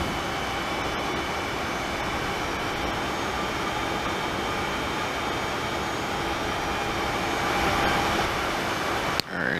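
Airliner taxiing out to the runway in a flight simulator, a steady broadband jet engine whine and hiss that holds level throughout, with a sharp click near the end.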